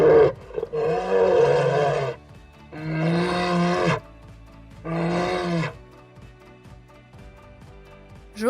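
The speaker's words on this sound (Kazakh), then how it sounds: "аю" A bear roars three times in a children's animal-sounds cartoon, each roar a drawn-out, throaty bellow of about a second with short pauses between, then a quieter tail.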